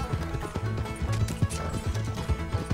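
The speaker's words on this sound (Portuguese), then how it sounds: "Injetei estamina no cavalo agora para ele continuar correndo sem parar." Rapid rhythmic hoofbeats of a galloping horse in Red Dead Redemption, a close, regular drumming of thuds running steadily through the short stretch without voices.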